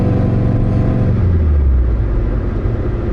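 A deep, throaty Saab Sonett III classic sports car engine rumbles loudly and steadily, its low tone dropping slightly as it runs, close by with no talking.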